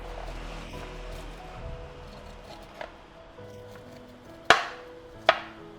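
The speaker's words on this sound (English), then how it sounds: "slicing the kernels off is so easy" A knife slices kernels off a hot corn cob held on a chopstick, soft low scraping strokes followed by two sharp, crisp cuts near the end, close and quiet with no talk.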